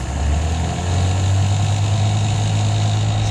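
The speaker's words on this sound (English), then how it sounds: "It doesn't like idling. It's also a 27-year-old motor" A 27-year-old boat motor idles steadily on the water, a loud, continuous low rumble with slight vibration and no talking.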